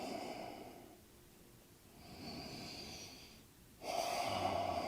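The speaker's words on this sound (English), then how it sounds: "One more round of breaths." Deep breaths during a yoga session, slow nasal inhales and exhales in a few long cycles, close and fairly soft, ending with a stronger breath.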